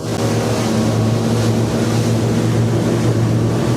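Twin 150 HP outboard engines run at full throttle on a Nuva M9 boat, a loud, constant engine roar blended with rushing water and wind noise, steady throughout with no talk.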